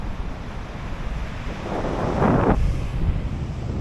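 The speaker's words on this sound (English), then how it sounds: "Quite a lot of movement in the sea today." Sea waves roll onto an empty beach at Galley Head, West Cork, on a cold, windy day, with steady rumbling surf and one louder wash breaking close by amid gusty wind noise on the microphone.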